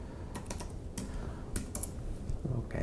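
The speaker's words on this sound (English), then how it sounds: "So I have to type the password because we're doing it as super user." Keys clatter on a computer keyboard as a password is typed, with irregular bursts of quick, close taps and short pauses between them, no voices.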